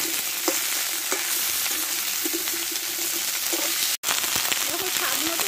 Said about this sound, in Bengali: এই ডাটাগুলো আমি ঢেলে দেবো। আমি একটু কষে দেবো।